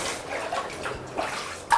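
Muddy floodwater being handled during cleanup after a Moselle flood, with short close sloshing and splashing water sounds across under two seconds.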